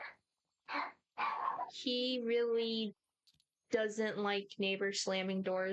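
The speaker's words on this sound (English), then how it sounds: "Sorry if you can hear my dog barking." A pet dog barks at home in repeated bursts, with high, strained, yelping tones, some sustained and some choppy. A person talks over it and between the barks.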